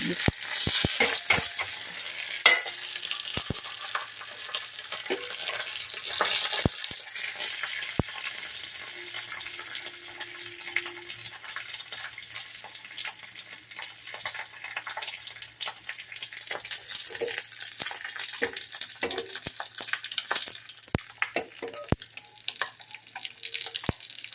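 Fenugreek and mustard seeds fry with a steady sizzle in a pan while being stirred, scraping and clinking throughout, close and moderately loud with no talking.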